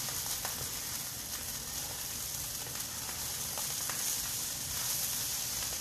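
Kale and already-cooked quinoa sizzle steadily in a pan over lowered heat, a soft continuous hiss with faint crackles and light clinks, moderately close and alone without talk.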